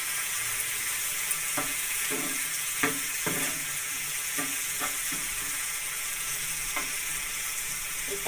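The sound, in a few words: tomato and onion frying in pan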